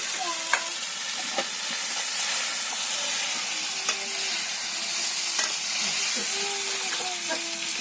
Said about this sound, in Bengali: এবার ভেজে রাখা পটলগুলো দিয়ে দেবো